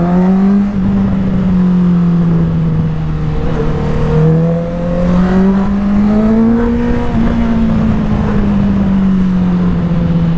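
A big motorcycle's engine drones steadily while it is ridden, its pitch rising and falling gently as the throttle is eased on and off. The engine is loud and close and runs continuously with no talk.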